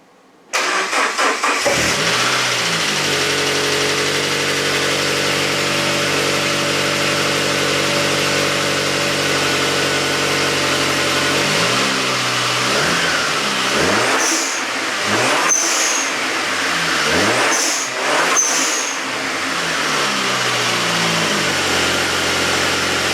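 A SAAB with a Trionic 7 engine management system and an aftermarket blow off valve starts and idles outdoors in the rain, a steady low engine drone, then several quick revs each ending in a sharp hissing release from the valve.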